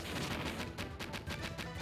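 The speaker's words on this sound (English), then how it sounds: "For a little small thing, has quite an explosion." An explosion in a SEGA Genesis video game, a dense, noisy burst of game sound effects with repeated crackling blasts that fill the whole clip at a steady, fairly loud level, with no speech.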